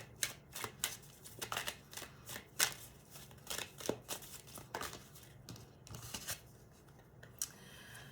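Tarot cards being shuffled and pulled from a deck that has not been used in a while, quiet close papery riffles and snaps coming in short uneven bursts with no talking.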